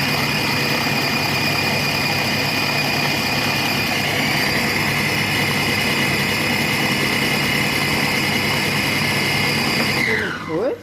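A Compact Cook Pro cooker's motor runs steadily at speed 6 while making a carrot, apple and coconut milk velouté, a loud constant whir that holds throughout before cutting out near the end.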